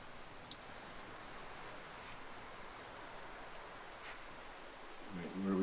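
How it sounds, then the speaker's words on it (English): Steady rain in a video game hisses evenly throughout, a soft, constant wash of falling drops with no clear pauses. "It's raining."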